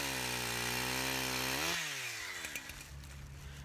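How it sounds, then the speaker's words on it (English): A chainsaw cuts a small bump off a log while chainsaw milling. It runs loud and close with a high steady whine, then drops in pitch as the engine bogs into the wood and winds down. "I'm just gonna cut this little bump off, just to make it a lot flatter to screw it to"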